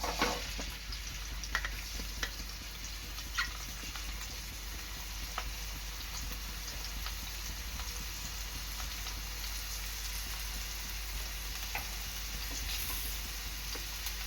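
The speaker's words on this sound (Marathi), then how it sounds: "आता मी टाकणार आहे कढीपत्ता kanda." Curry leaves and onion fry in a pan for a Kashmiri egg dish, a steady, even sizzle with faint crackles throughout and no voices.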